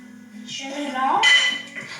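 Spoon or whisk clinks against a bowl while choux pastry dough is mixed with eggs, a few close metallic knocks and scrapes rising over a soft background.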